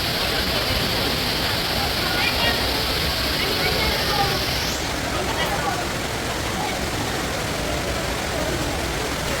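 An indoor waterfall in the Dubai Mall sends out a steady, loud rushing roar of falling water, with faint voices blended into the constant wash.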